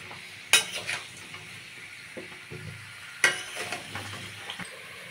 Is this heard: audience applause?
no